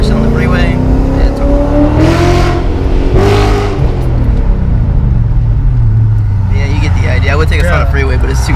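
A tuned 400 hp BMW 335i M-sport with an X-pipe in place of the resonator and a muffler delete, its engine and exhaust droning loud and close from inside the car as revs rise and fall, with people talking over it.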